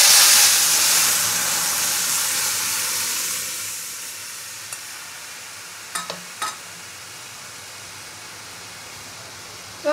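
Boiled lentil dal with mango being poured into hot mustard seeds fried for tempering, giving a strong hissing sizzle that slowly fades, broken by a few faint clicks of a utensil, close and without talk.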